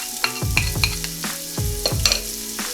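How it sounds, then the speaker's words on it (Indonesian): Onions sizzle steadily in oil in a pan while a utensil clinks and scrapes through them in several quick stirring strokes, close up, with no talking. "Kemudian kita akan mulai menggoreng bawang bombaynya supaya agak layu sedikit"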